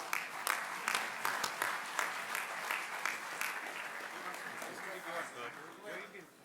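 An audience at a Dubai chartered accountants' annual conference applauds with steady, dense clapping that gradually thins out, with a voice speaking over it near the end.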